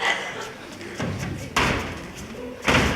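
Several dull thuds of knocking on a door land about a second apart, the last the loudest, over a muffled background of room noise.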